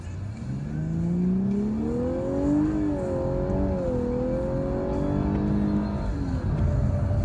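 A Mercedes-AMG GT S accelerates hard on the Circuit of the Americas F1 track, its loud engine note climbing steadily through several gear shifts, close and continuous, with no talking.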